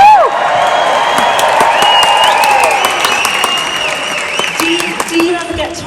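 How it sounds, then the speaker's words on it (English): A Royal Albert Hall audience keeps up loud, sustained applause with scattered cheers and whoops, while voices talk over the clapping throughout. "Do you ever get tired of applause"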